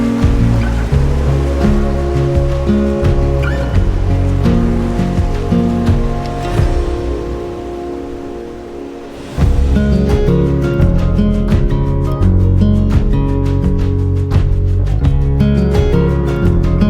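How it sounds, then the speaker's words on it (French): A small mountain stream flows through a cirque in the Pyrenees above the village of Oustou, making a loud, continuous rushing and splashing of water up close. "C'est le petit ruisseau qui traverse le cirque de Cagatay."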